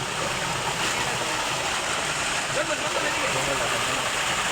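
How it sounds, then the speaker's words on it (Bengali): Water gushes steadily from a shallow irrigation pump in a village, a loud, continuous broadband rush with no pauses, like a strong stream pouring out close by. "স্যালু মেশিন দিয়ে কিভাবে জল বেরোচ্ছে দেখুন"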